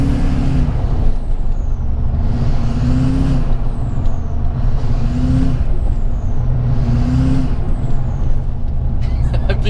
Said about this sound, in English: we can focus on more important things like turbo noises